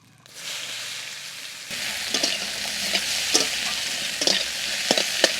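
Onions fry with bay leaf and cumin in a hot pan, giving a steady close sizzle that swells after a brief quiet start, broken by a few sharp stirring scrapes.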